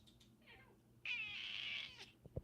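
A cat meows quietly once, then gives a longer, louder drawn-out meow, followed by a soft thump.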